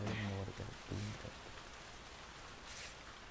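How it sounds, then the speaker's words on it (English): Heavy rain in The Last of Us Part II, a steady broadband hiss of downpour, with a voice briefly talking and humming over it at the start before the rain continues alone. "it's raining hard."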